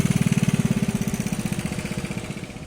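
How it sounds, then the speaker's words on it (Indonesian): A meatball vendor's motorbike exhaust putters past close by, a steady rapid thumping pulse that fades slightly as it goes, with no talk over it. "nongol dan ngerecokin audio gua dengan suara knalpotnya"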